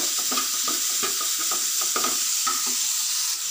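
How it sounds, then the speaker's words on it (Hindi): Onions and tomatoes for restaurant-style dal fry sizzle in a pan while a spoon stirs them, producing a continuous loud frying hiss with repeated rhythmic scraping strokes, no talking. "प्याज को अच्छे से भून लेंगे"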